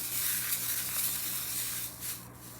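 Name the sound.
stirring Angel Blue Mix beads together in a container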